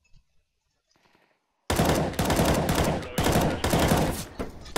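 Rapid automatic gunfire from the shooter game CS:GO, loud, close and continuous, breaking out after a quiet start and rattling on in dense bursts to the end.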